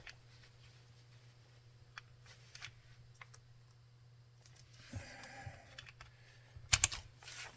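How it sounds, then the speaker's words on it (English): A plastic clamp being fitted onto a broken guitar neck at the heel, faint scattered clicks and taps of plastic against wood, then a brief cluster of rattling, sharper knocks near the end, with no talking. "I'm just going to use one of these plastic clamps like this."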